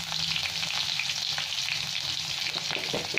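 Two bay leaves, whole cumin seeds, asafoetida and green chilies sizzling in hot oil in a pan, a steady close frying hiss with light stirring scrapes, no voices.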